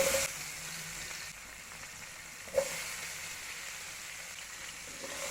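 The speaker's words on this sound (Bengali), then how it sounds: "নেড়ে চেড়ে ফ্রাই করে নিব" Thirty sour grapes fry in a pan with salt and spices, a soft steady sizzle under faint stirring scrapes and a single sharp clink midway, close but fairly quiet.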